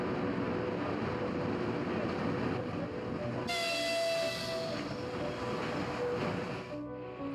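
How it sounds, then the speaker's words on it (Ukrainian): An evacuation train from eastern Ukraine pulls into a station on the Kharkiv–Lviv route, giving a steady rumbling roll with a sustained high squeal or whistle tone midway before fading. "Декілька волонтерів зустрічають черговий евакуаційний потяг зі сходу"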